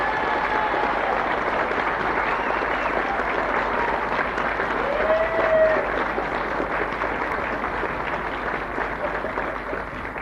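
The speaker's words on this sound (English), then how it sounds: "So what about the warmest round of applause possible for them?" Warm audience applause for Lonnie Lee and his family at a live show, a dense, steady wash of clapping lasting throughout, with crowd murmur mixed in.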